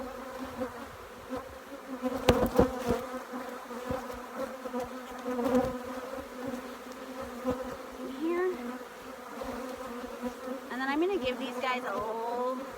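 Honeybees buzz steadily around an open hive during an inspection at a Certified Naturally Grown apiary, a close, continuous drone with a few brief louder swells and faint chirps behind.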